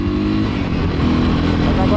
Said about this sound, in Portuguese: Mas agora eu tô de moto.